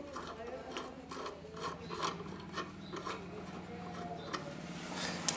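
A wrench ratchets in short repeated clicks while loosening the footrest fitting on a Royal Enfield Bullet 350 motorcycle, a close mechanical rasp with faint background noise.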